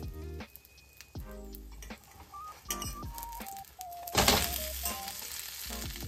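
Okonomiyaki flipped over on a hot pan over low heat, sizzling and crackling steadily up close, with a brief soft knock of the turn and a louder burst of frying midway.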